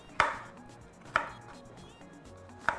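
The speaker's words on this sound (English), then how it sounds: "I'm just chopping some bell peppers" Three separate knife strokes chopping bell peppers on a board, each a crisp close thunk spaced about a second apart, quiet between, no talking.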